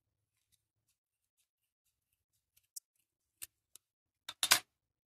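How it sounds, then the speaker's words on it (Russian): Scissors snip through knitted yarn for a crocheted basket, a few sparse, quiet clicks followed by a louder cluster of cuts near the end, with no talking. "И аккуратненько обрезаю, разрезаю, вернее, не обрезаю, разрезаю."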